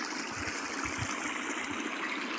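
Water flows steadily from a well's motor pump, a continuous gushing rush with no break across the whole stretch and no voices.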